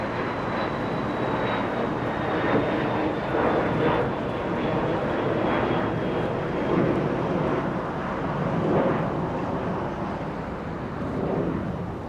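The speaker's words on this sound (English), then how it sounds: "Just letting the departure pass" An airliner departing Los Angeles International Airport, a broad continuous engine roar that holds loud and steady throughout, with a faint high whine drifting lower.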